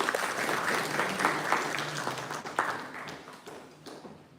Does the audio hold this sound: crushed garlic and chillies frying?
no